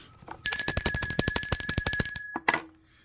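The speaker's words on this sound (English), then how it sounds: "Let me ring the bell of enlightenment for that." A small bell rings rapidly and loudly, a quick trill of about twenty close strikes over two seconds, then one final ring before fading out, with no voices.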